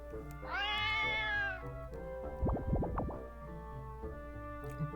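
A cat meows in the video game Granny in Paradise: one long, rising-then-falling meow near the start, then a few short, sharp clattering game effects and a steady background hum.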